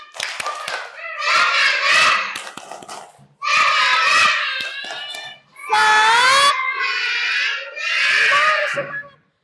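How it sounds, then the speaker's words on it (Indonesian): A class of children chants loudly in bursts while doing a rhythmic spirit clap, with sharp hand claps between and under their voices. "Kita tepuk semangat dulu. Tepuk semangat."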